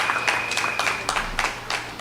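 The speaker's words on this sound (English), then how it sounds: "Give Zambo a round of applause, first time on a political platform" Brief scattered clapping from a political rally audience welcoming a young first-time speaker named Zambo, a small round of uneven claps in a few bursts.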